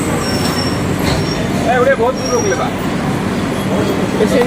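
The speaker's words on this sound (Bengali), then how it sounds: "সুলতানগঞ্জ আমাদের ট্রেন প্রবেশ করলো সুলতানগঞ্জে" The Brahmaputra Mail express rolls into Sultanganj station with a loud, continuous rumble and brief wheel squeals, while a voice talks over the noise.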